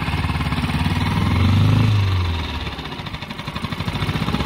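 A sailboat's inboard engine idles close by, a steady loud mechanical throb with a rhythmic knock that swells briefly before settling back to an even idle.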